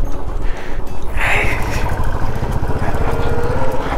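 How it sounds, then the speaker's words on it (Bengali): A motorcycle rolls downhill on a rural Bengal village road near the Sundarbans, its engine humming steadily up close, with passing road noise and voices talking over it. "বাইকটা নিয়ে একটু নিচের দিকে নামতে।"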